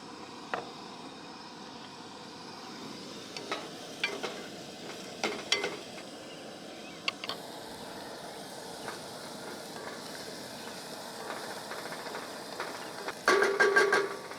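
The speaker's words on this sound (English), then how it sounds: "And then we're just gonna drop our onions in." Onions dropped into a little vegetable oil give a steady low sizzle with scattered clinks and stirring taps, building to a louder burst of frying near the end; no talking.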